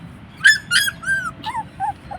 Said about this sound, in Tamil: எங்கள் வீட்டில் ஒரு 6 நாய்க்குட்டி இருக்குது